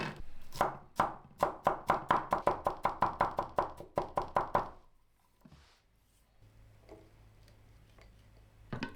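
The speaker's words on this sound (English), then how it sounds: "Chop 4 cloves of garlic." A knife chops four cloves of garlic on a board in a home kitchen, about twenty quick, evenly spaced close taps over several seconds, then quiet, with no talking.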